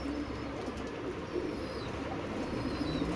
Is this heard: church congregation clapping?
no